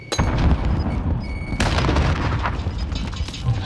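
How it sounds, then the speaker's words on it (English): A frag grenade explodes in an online shooter video game, a loud, close, rumbling blast that fills the whole moment and rolls on with sustained crackling debris and gunfire-like noise. "Tossing a frag!"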